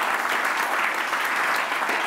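Steady, dense applause from an audience at an award ceremony, a continuous even wash of many hands clapping throughout.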